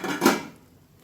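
A metal lid lifted off a pan of cooking aval rava appam gives a single quick clank near the start, then fades into quiet kitchen room tone.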